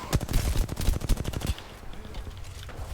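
Rapid automatic gunfire from enemy players in Apex Legends, a dense rattling burst of close shots for about a second and a half, then cutting off to quieter game ambience.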